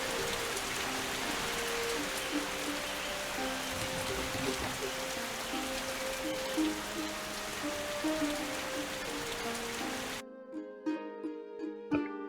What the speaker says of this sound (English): Let's get that excessively loud rain noise stopping.